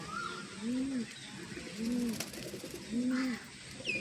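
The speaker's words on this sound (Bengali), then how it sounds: "আমার 3টা কবুতর উঠছে দেখুন" Pigeons coo softly in three evenly spaced, throaty phrases over faint background noise, with a brief chirp at the end.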